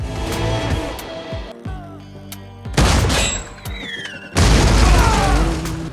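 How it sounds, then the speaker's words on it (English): A double-barreled shotgun fires repeatedly in a film action scene, with heavy booming blasts and crashes set among tense score and effects. The loud bursts come in clusters, separated by quieter stretches. "At this moment, David, with his double-barreled shotgun, moved and fired, one thug at a time."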